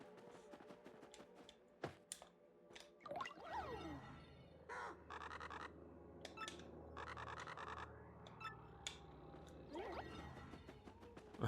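Birds caw in the Paper Mario: The Thousand-Year Door game, several short, bursty cartoonish caws and squawks scattered among sparse clicks and typing sounds in a quiet background.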